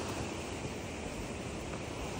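A constant rushing roar of the Bhurungdi river in Nepal fills the air, steady and unbroken, with a windy hiss blended in.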